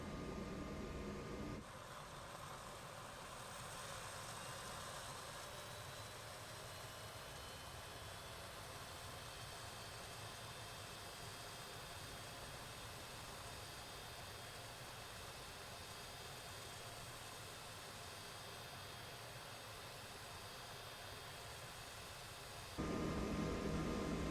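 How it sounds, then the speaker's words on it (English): Simulated MH-60 helicopter engines in MSFS 2024 starting and winding toward idle: a steady broadband whine and rumble that holds evenly for about twenty seconds, framed by louder cockpit noise at the start and end. "Engines are starting."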